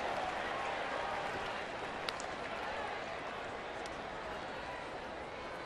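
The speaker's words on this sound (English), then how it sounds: "You hear a rumble of applause on that last pitch, a ball." A broad, steady rumble of crowd applause and noise fills a baseball stadium, distant and continuous without any clear peaks.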